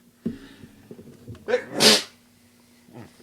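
A single loud sneeze bursts out near the mic, preceded by a short inhale and followed by quiet rustling and faint background sound.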